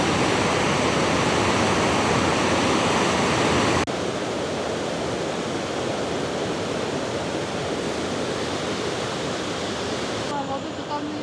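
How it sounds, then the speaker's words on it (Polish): An artificially built waterfall in Bavaria gives off a powerful, continuous rushing roar throughout, easing slightly partway through, with voices faintly mixed in under the water. "No robi wrażenie ten wodospad, muszę powiedzieć."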